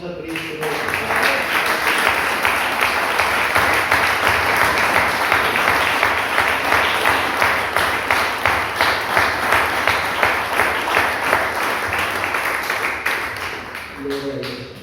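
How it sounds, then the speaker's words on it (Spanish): Church congregation bursts into loud, sustained applause during a sermon, dense clapping with a rhythmic pulse building to regular unison claps before fading, with a voice briefly at the start and end. "Denle un aplauso a Cristo."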